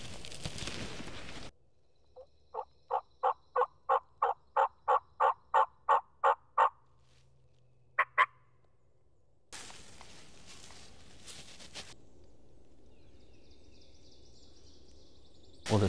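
Wild turkey gobbling during a spring turkey hunt in the woods, a long run of rapid, evenly pulsed calls, a brief double call a moment later, then quieter rustling and a thin distant bird call.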